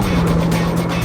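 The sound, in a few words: Mitsubishi Lancer Evolution X 2-liter inline 4-cylinder engine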